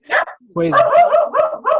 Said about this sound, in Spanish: el perro quiere participar en la clase también.